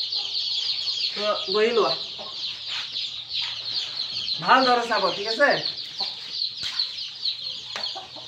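Local chicken chicks being handled for their first vaccination in a poultry setting, with repeated cheeping and clucking bursts throughout, louder near the middle, while a person talks over them.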